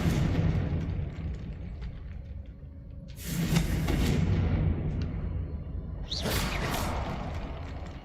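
Confringo blasting spell going off in a Harry Potter video game: two loud whooshing, booming bursts, a few seconds apart, rise above a steady rumbling game background.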